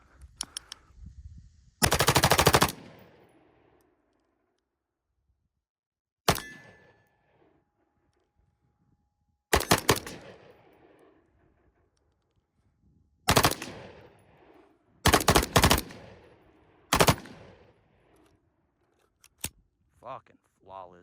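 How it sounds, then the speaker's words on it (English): Semi-automatic rifle fire at a shooting range, an ARP and a Draco, heard as a few loud, sharp shots and quick clusters with long quiet gaps between them, each shot ringing out briefly. "It is semi-automatic. And I have to pull the trigger every single time a bullet is fired."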